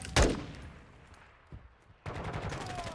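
M4 rifle fire in the Modern Warfare 2 beta: a sharp shot cracks at the start, a fainter pop follows, then a dense burst of rapid gunfire and game noise closes the moment.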